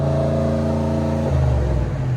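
A 2023 Chevy Silverado LTZ 6.2L V8 with a Borla S-Type cat-back dual exhaust holds a loud, steady rev, then bounces against its rev limiter with a stuttering, pulsing drone, close up with no talking.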